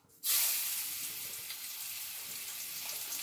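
Shol fish (snakehead) frying in a nonstick pan, a loud sizzling hiss that bursts in abruptly and then holds steady and close throughout.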